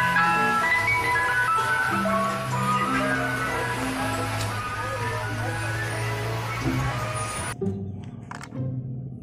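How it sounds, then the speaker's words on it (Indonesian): Ice cream truck jingle playing a looping melody of clear musical tones, loud and steady for most of the clip before cutting off near the end, with faint background noise. "Wow, ada mobil es krim."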